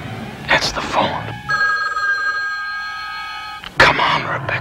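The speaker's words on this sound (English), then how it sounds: "That's the phone." A telephone bell rings in a steady sustained burst between bits of talk, loud and close.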